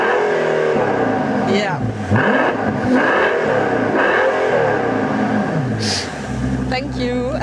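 A Mercedes S65 AMG with a V12 engine revs loudly and close, rising and falling in repeated swells with rumbling exhaust and a sharper blip near the end, while a voice speaks briefly over it.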